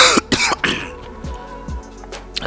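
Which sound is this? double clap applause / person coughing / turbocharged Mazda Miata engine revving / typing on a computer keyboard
person coughing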